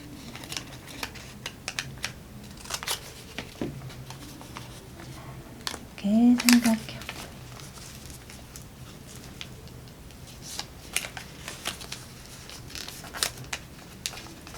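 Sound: scissors cutting folded paper

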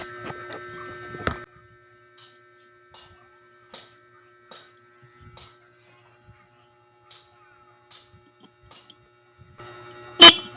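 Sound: motorcycle horn honking

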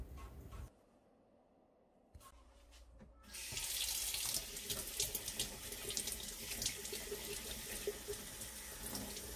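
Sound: washing a stain out with tap water

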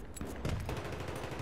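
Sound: gunfire in Battlefield 3 video game

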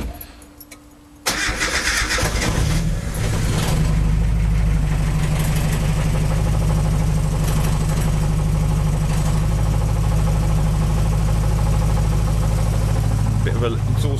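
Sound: Mazda MX5 turbo engine cold start, idling

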